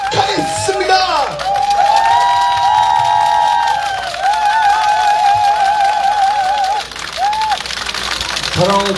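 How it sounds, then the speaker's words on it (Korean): Cheering and whooping from an outdoor election rally crowd at a market, with a loud shout at the start and some voices over a steady roar. Sustained, fairly near, and continuing for several seconds. "송창관 의원님을 뜨거운 박수로 모시도록 하겠습니다."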